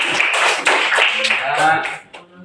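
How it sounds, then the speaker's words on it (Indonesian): Clapping from a class of standing schoolchildren in a classroom performance lesson, a short burst of many hands beating fast and fairly loud, fading out near the end as a voice speaks over it. "Iya, tepuk tangan."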